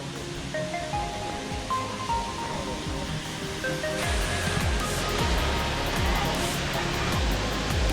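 Water pours steadily at the Erfelek Tatlica waterfall in Sinop, a close, continuous broadband rush that swells louder midway, with faint voices and other sounds layered over it.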